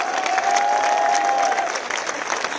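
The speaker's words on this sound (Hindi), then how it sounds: "इसका हम जश्न मनाएं तालियों के साथ।" A gathered crowd at a public rally on education claps loudly and continuously, with some cheering mixed in and a brief whistle-like tone over the noise early on, easing slightly near the end.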